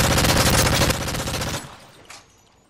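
Rapid bursts of toy robot weapon fire from a stop-motion sound effect, loud and dense machine-gun-like rattling that cuts off and trails into quieter scattered pops.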